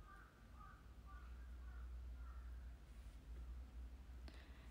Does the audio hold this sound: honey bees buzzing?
no